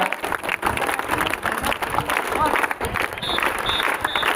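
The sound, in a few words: children clapping loudly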